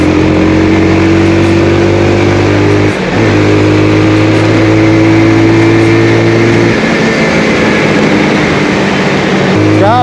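A loud motorcycle engine drones steadily while riding on a Kullu–Manali mountain road, its pitch holding, dipping briefly, then shifting as the rider works the throttle, with rushing wind and no clear talking.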